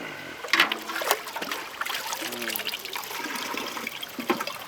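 Homemade village summer juice being poured into a bottle, a trickling, splashing liquid stream with a few louder gurgles.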